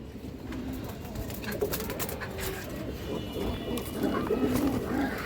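Indian Benarasi Kaldom pigeons, an active nesting pair with eggs, coo softly at close range in a low, repeated murmur over steady background noise.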